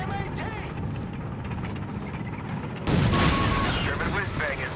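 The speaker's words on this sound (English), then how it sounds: "A lot of rocket artillery for Tonimontana." Rocket artillery fires in a Company of Heroes 3 match between the German Afrika Korps and US forces, a dense roar of launches and blasts that swells partway through under continuous game noise and a commentator's voice.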